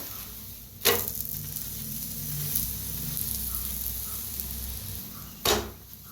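Methi dhapata frying in oil on a pan gives a steady close sizzle throughout, broken by two sharp scraping knocks of a spatula turning it.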